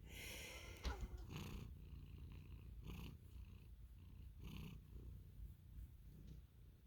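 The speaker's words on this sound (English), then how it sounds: "I don't know if you can hear her purring." A cat purrs steadily and close, a soft continuous rumble with gentle rhythmic swells, and a brief thump near the start.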